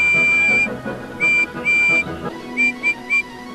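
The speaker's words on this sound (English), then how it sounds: "He was just about to leave when he heard Gordon's whistle" A high, piercing steam locomotive whistle sounds in several short blasts, two longer and a few quick ones, over a rumbling mechanical background.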